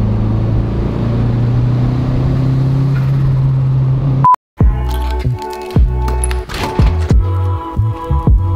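A turbocharged Honda Civic engine with known issues idles with a steady drone, cuts out briefly, then answers with a run of sharp, close revs and throttle blips.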